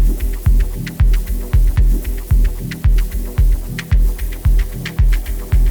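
Dub techno track playing back with a steady pulsing kick and deep throbbing bass, regular beats about twice a second, clicky percussion ticking above, loud and continuous with no voices.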